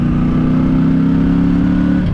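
A Benda Rock BD300 motorcycle engine pulling away: a steady, close mid-pitched engine drone holds at a constant level, then shifts slightly near the end, with no talk.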